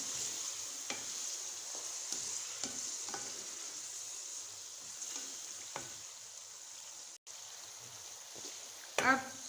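Ground spices, salt, red chili, turmeric and dried coriander fry in a pan with a soft continuous sizzle, broken by occasional stirring scrapes and clinks, fairly quiet and close.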